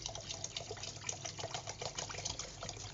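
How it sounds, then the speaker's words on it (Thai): Soaked flour mixture pours from a cut-open bottle, a continuous soft liquid gush and splash that is fairly quiet and steady throughout, with no talking. "จะตัดปากขวดอันี้ล้วก็เทแช่ไว้เลยค่ะ"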